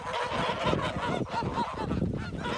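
A flock of geese honking nonstop, loud and close, their calls overlapping in a noisy chorus.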